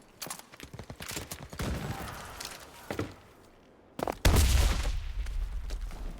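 A grenade blows up in a war video game about an Axis guerrilla squad, a loud low burst that hits around the four-second mark and rumbles on. Earlier there is scattered gunfire and clatter, and no one speaks.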